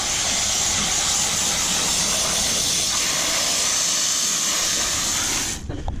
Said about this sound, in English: Just use a regular hose, nozzle hose that can give you a pretty good stream.